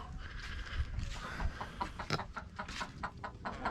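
Chickens shut inside a quarantine coop cluck and chatter steadily at close range, overlapping calls rising and falling over low rustling and shuffling.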